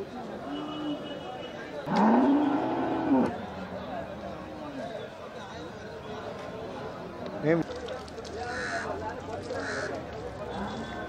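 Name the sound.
Sindhi cow breed cattle lowing at cattle market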